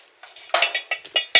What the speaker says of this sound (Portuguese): Aqui tem panela, tem colher, tem escumadeira, tem de tudo.